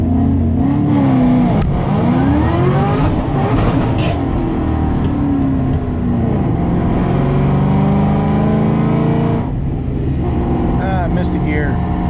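A Ford Shelby GT500 accelerates hard with a loud engine roar that rises, then stumbles on a missed gear change before revving on; someone talks over it near the end.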